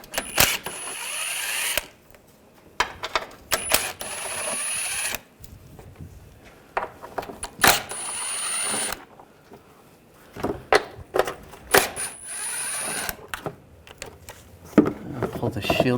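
A 13mm socket on a ratchet loosens the lower shield bolts beneath a 2004-2012 Chevrolet Colorado 3.7L, giving bursts of quick metallic clicking and rattling separated by short pauses.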